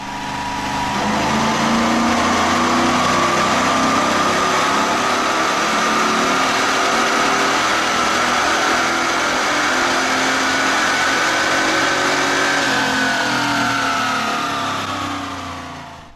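A Chevrolet LT1 with a 58mm BBK twin throttle body runs hard on a chassis dyno, its engine droning loud and steady as it pulls up through the revs for a long sustained run before easing off at the end.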